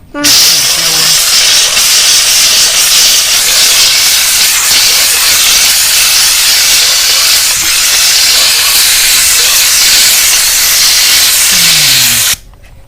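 A steam gun sprays continuously to clean car tyres, a loud, close, unbroken hiss lasting about twelve seconds before cutting off abruptly.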